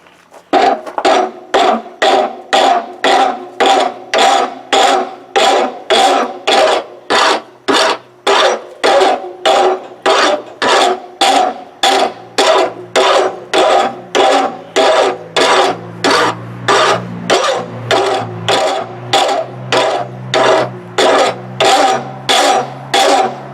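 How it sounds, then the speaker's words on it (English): Farrier's rasp filing forged steel by hand, about forty steady back-and-forth strokes in an even rhythm, loud and close, with a low hum beneath the later strokes. "I'm going to have to try the farrier's rasp and see if I can't do it by hand."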